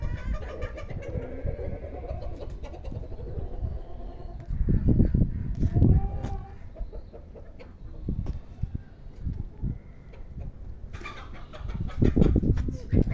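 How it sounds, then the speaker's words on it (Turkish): Chickens at a zoo cluck and squawk in a flurry of agitated bird calls, with flapping bursts and scuffling as a rooster chases another bird nearby. "Aa, horoz kovalıyor onu."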